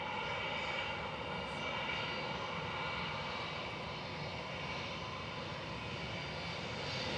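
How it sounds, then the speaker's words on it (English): Airliner Shuttle 3 Romeo departing Manchester Airport for Heathrow, a steady engine roar held at a constant level throughout, with no voices over it. "Shuttle 3 Romeo departing back to Heathrow."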